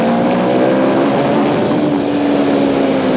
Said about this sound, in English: You can take the RPMs up higher.